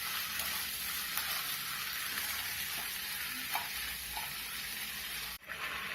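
Pumpkin halwa with added sugar is stirred in a hot pan, giving a continuous soft sizzle and scraping with occasional clinks, close and steady, ending in a brief sharp knock.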